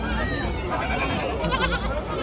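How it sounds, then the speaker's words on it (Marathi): Goat kids, some of them Kota cross, bleat at a large goat and sheep market in Chakan, Maharashtra. The calls rise over dense, continuous crowd chatter and voices nearby. "इकडं ही सगळी करडे आहे शेळ्यांची."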